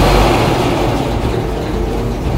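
A 1918 Kissel 6-38 car engine idles close by with a loud, steady, even rumble that is dense in low tones and continues without any break or talking.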